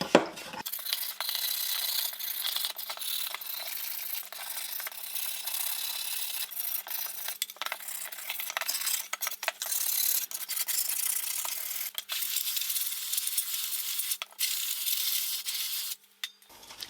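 Rusty Mazda RX-7 FD3S parts get scrubbed with a brush in kerosene, a close, steady rasping rub that goes on in short repeated strokes with small pauses, alone without talk.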